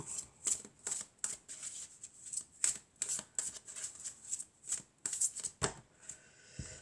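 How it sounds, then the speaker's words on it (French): Angel and crystal oracle cards being shuffled by hand, a steady run of crisp riffling bursts with short gaps, close and fairly quiet, with no talking. "je vais prendre alors, une carte de l'oracle des anges et des cristaux"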